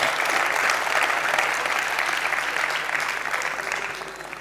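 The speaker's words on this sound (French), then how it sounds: "Applaudissements pour vous-même, s'il vous plaît." Audience applause at a comedy festival show, thick and loud from the start, a steady roar of many hands that eases slightly toward the end.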